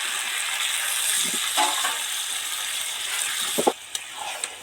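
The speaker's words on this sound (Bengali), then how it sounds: "এবার একটু সামান্য জল দিয়ে দেব" Pumpkin and Malabar spinach frying in a pan, with a little water added, give a steady close hiss and sizzle, broken by a few soft stirring knocks and small splashy bursts near the end.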